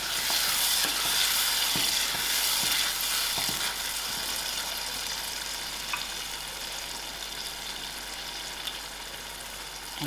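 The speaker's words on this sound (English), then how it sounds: "I give it a good stir and allow all these ingredients to cook out very well" Chickpea chutney with canned tomatoes and salt cooks in a pan, a steady broadband sizzle filling the background while a spoon stirs through it with soft, intermittent scraping taps, gradually settling slightly quieter.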